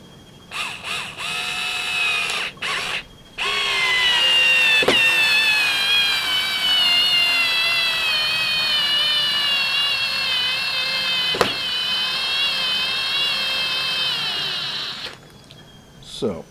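A Lidl Parkside cordless screwdriver in angled form drives a long 3-inch screw, its whining motor running steadily for about eleven seconds and slowing toward the end, preceded by a few short bursts.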